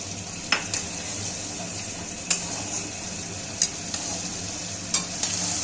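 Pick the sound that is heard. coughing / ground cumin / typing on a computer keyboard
ground cumin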